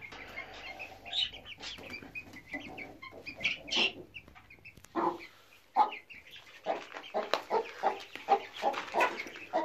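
Chickens cluck and call steadily around a Hint hen with her chicks and blue-egg-laying Lavender and White chicks, several birds vocalizing close by in a busy, overlapping chorus with no talk.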